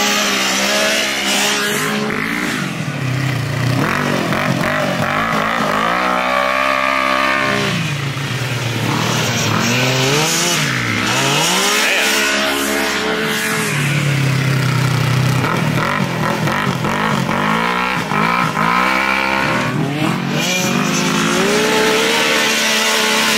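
Textron Wildcat XX side-by-sides take a trail corner, their engines loud and close, revving and dropping off in repeated surges as each machine slows, turns and accelerates away.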